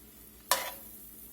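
Butter hits a hot pan of Cajun steak bites with a sudden loud sizzle that stays steady and crackling, near and alone, with no talking.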